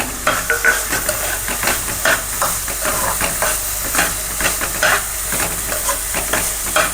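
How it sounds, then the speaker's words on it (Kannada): Capsicum frying in oil with reddened onion for egg fried rice, a loud close sizzle broken by regular spoon scrapes and taps against the pan as the vegetables are tossed. "ಇದು ಕ್ಯಾಪ್ಸಿಕಮ್ಮು ಒಂಚೂರು ಫ್ರೈ ಆಗಬೇಕು."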